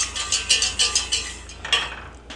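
A spoon stirs molasses and sugar into baked beans in a pot, giving a steady series of close scraping, clinking strokes against the side of the pot in an even rhythm, with no talk.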